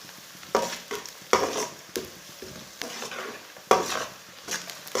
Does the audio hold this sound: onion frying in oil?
yes